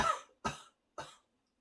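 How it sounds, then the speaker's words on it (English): Three dry coughs in a row, close and fairly loud, each one short and evenly spaced, followed by silence. "So this is cough."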